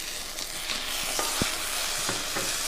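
Onions and curry leaves sautéing in a pan for pirandai thuvaiyal, a steady close sizzle with a few soft stirring taps and scrapes.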